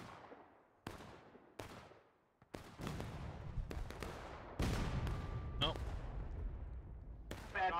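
Artillery cannon fire booms across a Civil War battlefield in the video game War of Rights, with a string of sharp blasts from near and far, each decaying into rumbling echoes amid ongoing battle noise.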